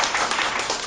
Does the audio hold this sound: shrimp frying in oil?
no